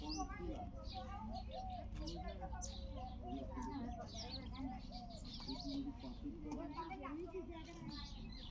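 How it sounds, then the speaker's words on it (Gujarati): Small sparrows chirp busily near a village house, a dense, continuous chatter of overlapping short calls, fairly close, over a low background hum. "જો નાની નાની ચકલી."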